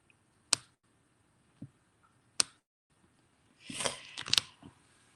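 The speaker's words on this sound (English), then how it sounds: "Sounds like a typewriter, yeah." Sharp, sparse clicks that resemble typewriter keys ring out close by in a quiet room, two crisp isolated snaps followed by a brief flurry of rapid clattering taps near the end.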